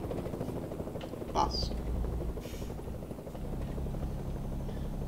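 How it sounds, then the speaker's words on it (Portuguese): A helicopter's spinning rotor in a video game gives a steady, continuous drone throughout, with a brief sharper sound partway through and someone talking over it. "Eu achei que a hélice do helicóptero fosse me travar."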